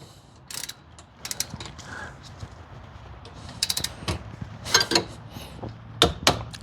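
A torque wrench ratchets in short clicking bursts, tightening a rear brake bolt to 25 foot-pounds on a 2012–2017 Toyota Camry, near and crisp with quiet pauses between strokes.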